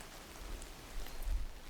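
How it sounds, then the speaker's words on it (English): Distant rain with scattered raindrops, a soft steady hiss like static with a few faint drop taps and a slight swell near the end, no voices. "There's going to be a hiss of that because there's distant rain as well, which probably sounds like static."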